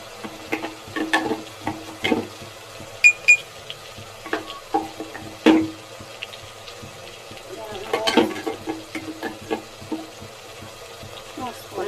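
Onion paste frying in a pan for country-chicken (nati koli) sambar, with soft sizzling and intermittent scraping stirs from a utensil, close and moderately loud, a voice speaking faintly in places.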